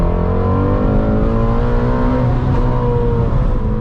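Ford Mustang GT350 downshifting into first gear and pulling at full throttle, a loud, close engine roar with rising harmonic tones that climbs steadily throughout.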